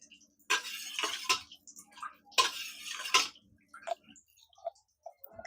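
A spoon mixes ingredients into half a litre of cold milk for a betel leaf drink, ringing out in clustered metallic clinks and scrapes against the vessel, with a few scattered lighter taps afterward and no talk.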